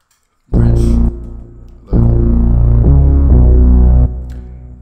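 A loud, buzzy synthesizer tone from the FL Studio 3x Osc oscillator, with rich harmonics, plays in sustained notes, cutting off and returning, shifting pitch slightly, with no talking.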